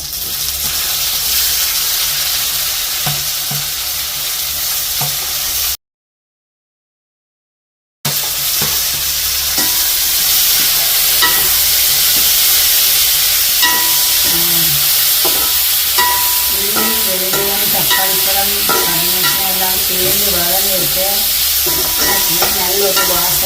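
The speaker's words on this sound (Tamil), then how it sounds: "தக்காளி பழத்தை போட்டு வதக்கணும்" Tomatoes sauté in a hot pan with fenugreek, giving a loud, continuous steamy sizzle up close with occasional stirring scrapes and a short gap of silence partway through.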